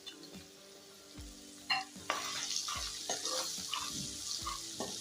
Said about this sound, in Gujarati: એને પણ આપણે થોડીક રીતના આ રીતના તળી લેશું